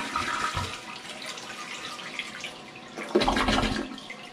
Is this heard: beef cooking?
no